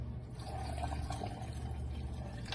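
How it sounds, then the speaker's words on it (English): Water poured into a pineapple mango ice cream mixture, a soft continuous splashing and trickling at close range, fairly quiet and steady. "I pour some water in it."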